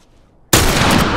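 Rifle gunfire from a hunter in The Last of Us multiplayer erupts suddenly after a near-silent moment, a loud, dense blast of shot noise that holds steady to the end.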